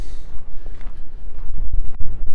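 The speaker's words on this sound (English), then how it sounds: "Gray and windy, but mild." Gusty wind buffeting the microphone on a gray, mild day while walking along College Avenue in Regina, a loud low rumble that rises and falls, with brief sharp dropouts near the end.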